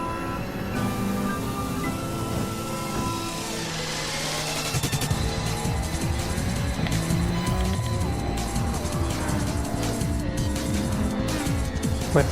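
Race car engine in a racing video game at Interlagos, revving high and steady through turns with shifting pitch and occasional tire squeal, loud and continuous.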